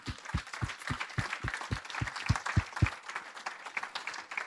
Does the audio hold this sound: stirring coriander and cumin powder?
no